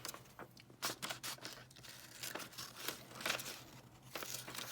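Scissors cutting a paper figure roughly around its outline, giving quiet repeated snips and crinkling paper rustles in an irregular rhythm, close by and without talk.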